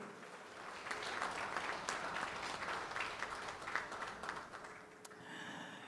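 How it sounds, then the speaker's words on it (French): An audience at an award ceremony in Gabon, marking a company's international prize, applauds in a sustained burst of many hands clapping at moderate distance, then the clapping thins out toward the end. "On peut applaudir pour ça,"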